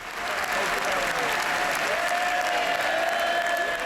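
MPs in the House of Commons cheering and clapping on David Cameron's last day as Prime Minister, a dense sustained wash of applause and roaring approval that swells in and holds loud throughout.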